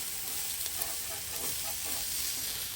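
Sea scallops sear on a flat Blackstone griddle in garlic butter, giving a steady close sizzle and hiss with no talking.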